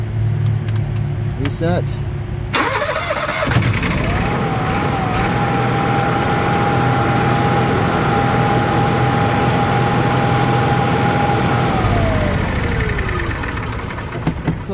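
A Cummins Onan 5.5 kW generator in an RV cranks after a brief spoken word, catches and runs at a steady loud hum with a sustained tone for several seconds, then winds down near the end.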